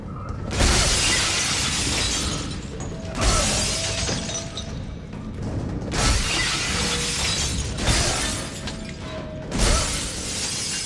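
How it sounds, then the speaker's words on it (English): Glass shattering in the video game Dead Space 2, several loud crashing bursts of breaking glass repeating every few seconds, with a faint mechanical ratcheting between them and no talk. "I go break the glass to use as weapons"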